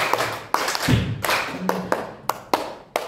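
A group of teachers in a training session claps a rhythmic five-beat pattern, crisp hand claps landing in short grouped bursts with brief pauses between them.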